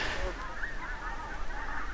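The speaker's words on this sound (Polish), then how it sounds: "dzikie gęsi wracają z ciepłych krajów." Wild geese honk in the distance outdoors in cold Scottish hill country, a few faint calls over a soft background of wind.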